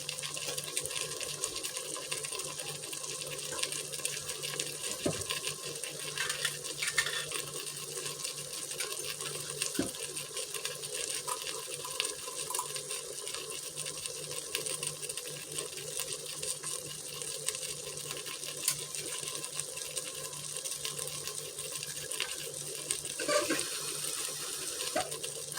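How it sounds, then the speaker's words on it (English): Cold tap water runs steadily over rinsed dark red kidney beans in a colander, a constant close splashing hiss with no talk over it. "So I just dump the juice out and then run cold water over them and drain them"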